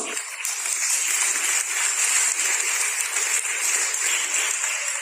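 A church congregation applauds during a Spanish-language sermon, a dense, continuous wash of clapping that holds steady throughout with no voices over it.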